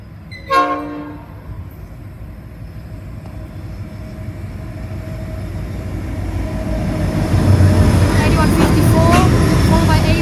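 A train led by locomotive 8154 sounds a loud horn blast near the start, then its rumble builds steadily as it approaches and passes close, with a voice speaking over it.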